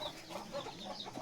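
Chickens cluck repeatedly at close range inside a farm shed on an integrated farm where goats and cattle are also tied, the short overlapping calls continuing steadily throughout without talk.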